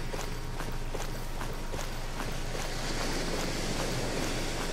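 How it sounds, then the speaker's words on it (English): Water ambience from the video game Strayed, a steady broadband wash with faint rhythmic splashing or lapping accents running continuously at moderate level, no talk over it. "And the water sound is so close"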